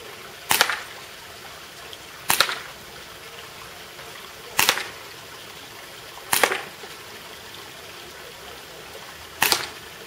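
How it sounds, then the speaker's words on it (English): Five sharp single shots from a TSD Colt 1911 CO2 non-blowback airsoft pistol, evenly spaced about two seconds apart, each a crisp pop with a brief tail over quiet background. "five shots from 30, 5 shots from 50, with the TSD Colt 1911 CO2 non-blowback"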